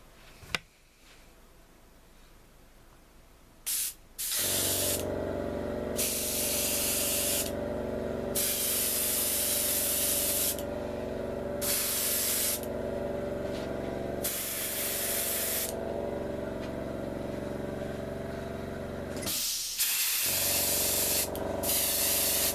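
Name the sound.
spray painting a model missile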